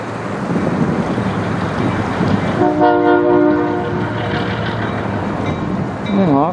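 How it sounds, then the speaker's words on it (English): A freight train rumbles and clatters past under a bridge, with a long horn blast partway through and another short blast near the end, steady and fairly close. "a train going under the bridge"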